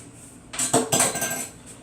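A spoon clinks and scrapes against a dish while olive oil is scraped off, giving a brief cluster of close, bright metallic taps and one more near the end.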